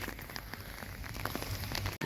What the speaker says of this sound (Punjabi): ਨਹੀਂ ਤੁਸੀਂ ਮੀਂਹ ਦਾ ਸਵਾਦ ਲੈਣੇ ਹੋ